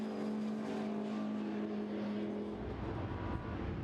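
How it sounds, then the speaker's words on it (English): A blue Ford Mustang pre-1966 touring car races through Club Corner at a classic circuit, its engine note steady and fairly distant before dropping into a rougher, lower rumble as it passes. "the blue Ford Mustang, which is just coming into and through Club Corner now"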